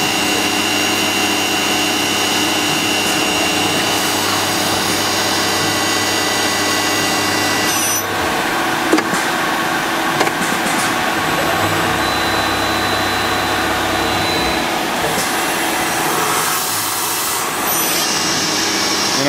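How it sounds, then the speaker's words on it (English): A Citizen A16 Swiss-type lathe's main spindle runs at 6,000 RPM close up, heard as a loud, steady whine and hiss of machine noise with broadband shifts and faint knocks, continuous throughout without talk. "You can barely even hear the spindle turning on."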